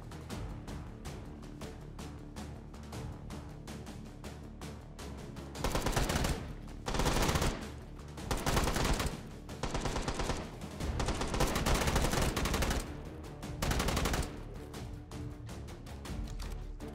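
Firearms in the VR shooter game H3VR, heard as repeated loud bursts of rapid automatic gunfire, close to the listener, with sparser single shots between them and no talking.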